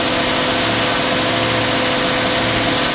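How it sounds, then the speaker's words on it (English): A car engine with a freshly helicoiled spark plug thread idles high at around 1600 RPM, a steady loud droning hum with no pauses and no voices. "Obviously the idle is high and will need adjust."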